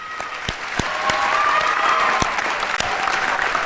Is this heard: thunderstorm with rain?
no